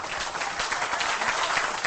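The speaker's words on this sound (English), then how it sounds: "Please clap." An audience applauds, a dense, steady wash of clapping that stays loud and even for the whole short stretch, with no talk over it.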